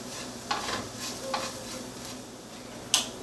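Spices sautéing in a pan with a little salt, a faint soft sizzle under a few light scrapes and taps of a stirring utensil spaced out over a few seconds.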